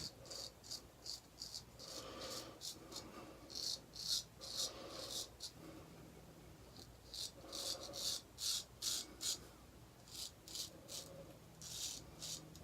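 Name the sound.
razor shaving, second pass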